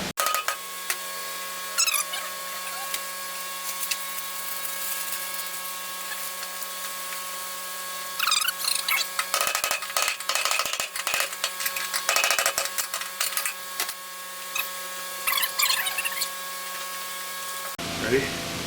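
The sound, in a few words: nibbler cutting metal ring on Ford F-350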